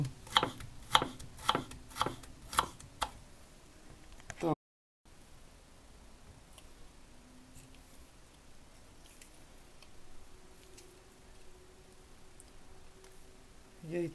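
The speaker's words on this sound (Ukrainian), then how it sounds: "Нарізаю на соломку." Knife strokes rapidly slice vegetables into thin strips on a board for a few seconds, a quick rhythmic series of crisp cuts, then a pause and quiet room noise.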